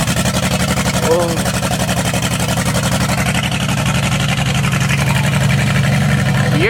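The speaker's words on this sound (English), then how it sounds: "Your truck don't chop like that, Zane." A truck engine idles with a rough, choppy lope, as if missing on its cylinders, running steadily and loud throughout with a deep low rumble.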